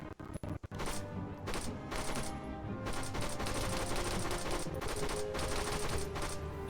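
Gunfire in the video game Arma 3: a few sharp separate shots, then a dense, continuous fusillade of rapid automatic fire and crackling rounds, loud and unbroken to the end with no talk.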